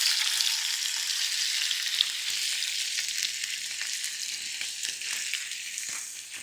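Tripolyphosphate-free 31-34 count shrimp fry in a hot pan, giving a dense, steady high sizzle that stays close and even, with no voices over it.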